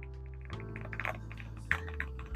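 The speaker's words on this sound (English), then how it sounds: "I was honestly quite surprised at the deepness that this keyboard now delivers." Typing on a modded James Donkey A3 mechanical keyboard with MT3 keycaps, a quick run of deep, crunchy key clacks up close and alone.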